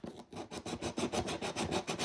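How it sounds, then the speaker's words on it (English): Rhythmic scratchy rasping of sandpaper rubbing over cardstock, about a dozen quick strokes in steady succession, close and fairly quiet. "I might just hit it with my sandpaper"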